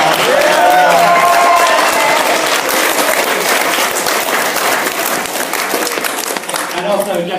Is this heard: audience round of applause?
yes